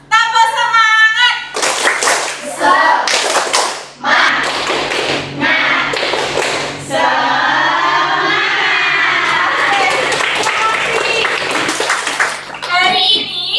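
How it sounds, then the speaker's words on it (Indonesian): A class of students performs the tepuk semangat spirit clapping routine in patterned bursts of sharp, loud claps, chanting and shouting together between and over the rhythmic clapping, close and energetic. "Oke, kita peragakan sama-sama. Tepuk semangat."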